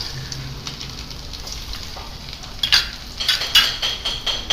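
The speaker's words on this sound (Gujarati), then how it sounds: "હવે આપણે જે વાસણમાં ફ્રાય કરેલું હતું એમાં જ આપણે આનો વઘાર કરીશું." Chopped garlic sizzling in hot oil in the same pan used for frying soya chunks, a soft crackle that swells into louder bursts of spattering and clinks of a spoon against the pan.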